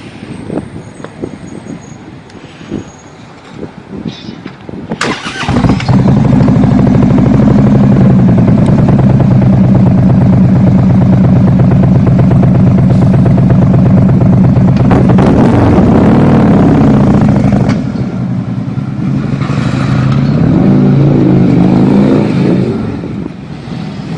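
An engine revs hard through aftermarket CFR exhaust pipes, a loud, deep, sustained roar that swells and eases in long pulls after a quieter opening, then surges again near the end.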